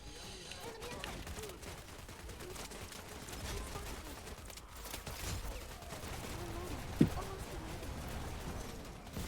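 Gunfire crackles through a battle in the multiplayer shooter Wild Assault, rapid volleys and scattered shots at moderate distance, with one sharper crack near the end, beneath a continuous low rumble.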